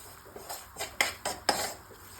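Spoon scraping and clinking against a pan while flour is stirred into melted butter over a low flame, a few distinct metallic taps and scrapes in a quiet kitchen, no voices.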